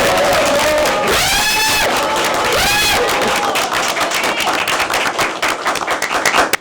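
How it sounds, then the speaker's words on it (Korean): A crowd at a joint debate for Incheon Yeonsu and Namdong election candidates applauds and cheers the candidates as they are introduced. Loud, dense clapping carries shouts and whistles, with voices mixed in, and it thins into sharper, scattered claps toward the end. "제가 한 분 한 분 이제 호명할 때 격려의 박수 좀 부탁합니다"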